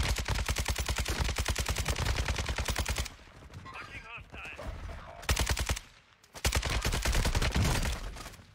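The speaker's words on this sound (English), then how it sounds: "I ain't know what Drake was shooting at." Rapid automatic gunfire in a video game, dense loud bursts of shots that stop for a couple of seconds, then resume, with brief breaks between volleys.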